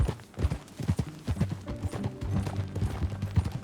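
Horse hooves clip-clop steadily in Red Dead Redemption 2, a rhythmic trot of close, moderately loud hoofbeats with a faint whinny-like tone and low background sound.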